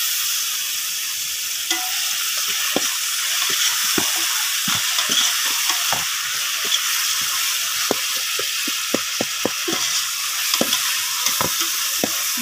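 Tomatoes with ginger garlic paste fry in a pan under a loud, steady sizzle, while a spatula stirs and taps against the pan in frequent irregular clicks and scrapes.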